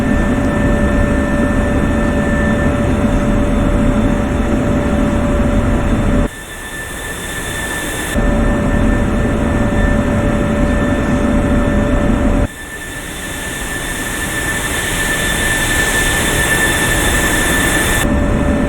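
An F-16 jet engine in a flight simulator, throttle raised, roars loudly and steadily with a high whine, dipping briefly twice and then building again.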